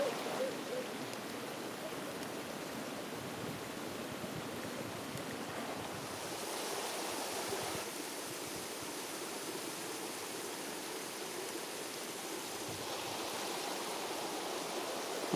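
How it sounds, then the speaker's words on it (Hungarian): A mountain stream in Székely Land, Romania, roars continuously just below the forest edge, a dense rushing wash of water that swells slightly midway, with no voices. "Patak egyre nagyobb hanggal zúg."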